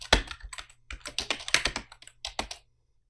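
Computer keyboard typed on up close as a line of Python code is entered, brisk bursts of crisp key clicks with short pauses between words, no talking.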